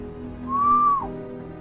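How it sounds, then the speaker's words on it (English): A single low, steady whistle like a bird call, held for about half a second and then dipping briefly at its end, clear over a quiet humming background. "A low whistle like a bird call fluttered through the night air."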